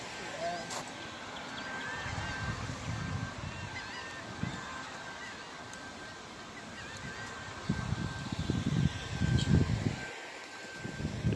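Seagulls call in the distance over steady wind and rustling outdoor noise near a bridge in Apalachicola, Florida, with a few louder bursts of gusting sound.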